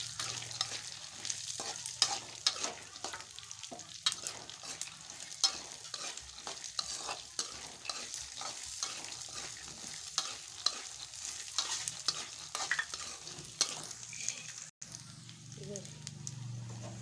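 Garlic and curry leaves crackling in hot oil, a busy stream of tiny pops and spoon scrapes with a brief dropout near the end, close by, while a person talks over it.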